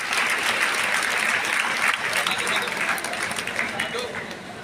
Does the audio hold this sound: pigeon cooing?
no